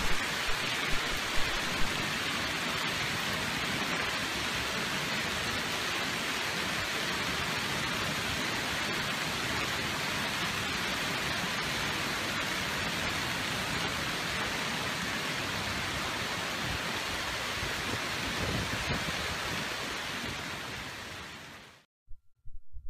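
A hailstorm pounds the Denver metro area, a dense, steady roar of stones hitting surfaces that holds loud and unbroken for about twenty seconds before cutting off abruptly.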